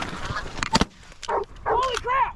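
Canada geese honking during a goose hunt, several loud nasal honks in quick succession from nearby birds, with hunters' voices mixed in.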